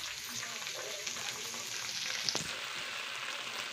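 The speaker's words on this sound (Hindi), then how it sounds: "तेल डाल के फोरन डाल के भाटा आलू में भूंजे" A tempering of onion, chili and fenugreek fries in hot oil, alongside eggplant and potato, producing a steady, dense close sizzle with a brief louder crackle partway through.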